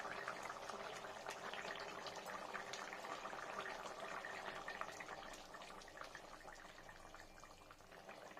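Rui fish curry with onion, garlic, ginger and chilli bubbles steadily in a pot, a dense, even simmering hiss with fine popping that holds throughout and eases slightly toward the end, with no voices.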